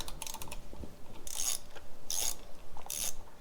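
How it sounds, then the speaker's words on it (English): Ratchet wrench clicking as bolts are removed from a 2020 Honda Grom motorcycle, several quick bursts of close metallic ratcheting with brief pauses between, no talking. "now I need to remove these bolts right here"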